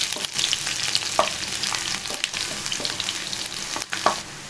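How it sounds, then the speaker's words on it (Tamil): Garlic fries in hot oil with fennel, fenugreek and curry leaves, a close, continuous sizzle broken by the scrape of a spoon stirring the pan, with no talking. "பூண்டு நல்லா கொஞ்சம் வதங்கட்டும்,"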